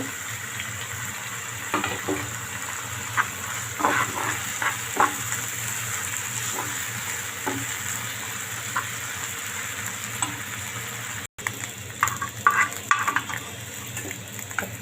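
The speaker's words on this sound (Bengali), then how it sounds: "চিংড়ি মাছগুলো একসাথে ভেজে নেব" Prawns fry in a pan with a steady, close hiss of hot oil, punctuated by intermittent sharper crackles and pops and a short break near the end before the sputtering resumes.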